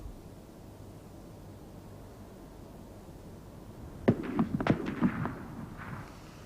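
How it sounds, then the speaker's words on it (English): Distant gunfire in Romania in June 1940 crackles as a brief cluster of sharp reports after several seconds of quiet background, faint and far off. "Was that shooting?"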